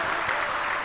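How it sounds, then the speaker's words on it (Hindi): Brief burst of applause from an audience at a Hindu Bhagavat katha gathering, a dense even clatter of many hands lasting under a second. "इस संपूर्ण परिवार के लिए एक बार जोरदार ताली बजाओ"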